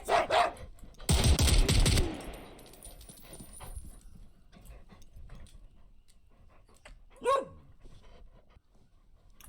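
A dog in the tactical shooter game Zero Hour gives a loud burst of barking near the start, then breathes and pants softly. One more short yelp follows later against quiet game ambience.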